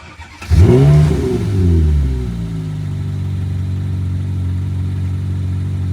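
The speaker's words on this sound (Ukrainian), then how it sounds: "Тут у Макларена Twin Turbo. Аж дві турбінки, які так досить відчутно завивають." A McLaren 650S Spider twin-turbo sports car engine fires up with a sharp rev that swells and falls, then settles into a loud, deep, steady idle nearby.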